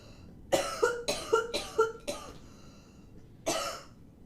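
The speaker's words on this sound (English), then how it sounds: "I'm sorry for coughing down your ear" A burst of five quick, harsh coughs close to the microphone, a short pause, then one more rough cough.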